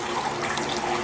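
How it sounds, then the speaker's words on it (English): Half a cup of water poured into a cooking pot, a steady, close broadband splashing rush without pauses. "I'm going to add about another half cup of water just to thin it out a little bit"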